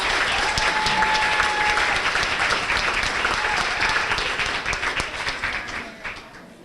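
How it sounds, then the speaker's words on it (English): A banquet audience at a high school sports banquet applauds its club officers, sustained dense clapping that fades out gradually, with a few voices underneath. "Nice round of applause for them, please"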